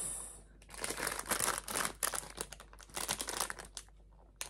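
Plastic packaging for a pair of glasses crinkles and rustles up close in dense, irregular bursts while being handled and opened, with no talking.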